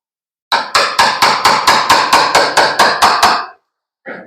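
Rapid, evenly spaced hammer blows on a small chisel cutting the hard old steel of a 1935 Ford coupe roof, about a dozen sharp loud metallic strikes close by, then one last hit after a short pause.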